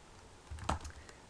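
A few soft computer keyboard keystrokes, close and quiet, with one slightly louder tap in the middle and no talking.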